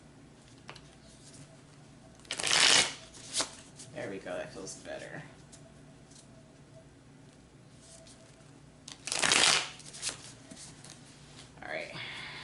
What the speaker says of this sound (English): Shuffle it a couple more times.